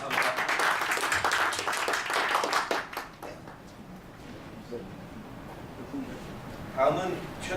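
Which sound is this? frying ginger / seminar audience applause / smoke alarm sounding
seminar audience applause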